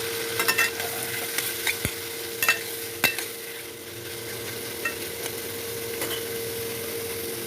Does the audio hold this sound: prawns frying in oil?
yes